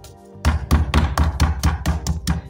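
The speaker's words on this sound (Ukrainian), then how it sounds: "зараз буду відбивати молоточком." A meat mallet pounds chicken through cling film, about nine loud, heavy thuds in a steady rhythm after a brief quiet start, close up on a kitchen surface.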